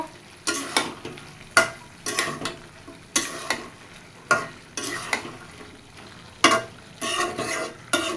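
Fried lentil dumplings (bori) are stirred into a gourd curry in a pan, making a series of scraping, clattering strokes that come in uneven bursts over a soft simmer, with no talking.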